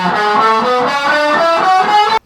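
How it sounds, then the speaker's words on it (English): Electric guitar run through a distortion foot pedal, playing a steady sustained chord progression with thick harmonic buzz, loud and close, stopping abruptly at the end. "I'm gonna turn off this distortion and I'm gonna use the foot pedal distortion so it sounds more different from the other guitar"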